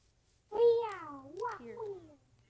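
A Minecraft cat gives a single drawn-out meow with rising and falling pitch, fairly close and clear, followed by a shorter second meow-like call over a faint low hum.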